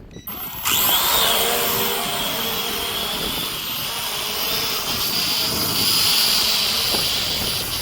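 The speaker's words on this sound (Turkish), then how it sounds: "Ardından da drone'u uçurabiliriz." A small camera toy drone's propellers buzz in a steady, high-pitched mechanical whine, continuous, loud and close, starting abruptly after a brief moment of quiet.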